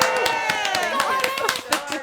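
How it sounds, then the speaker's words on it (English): A round of applause for the host's wife at a reunion show for a dating game, with scattered claps ringing out beneath continuous talk and music, fairly close and steady. "Let's give her a round of applause to my wife."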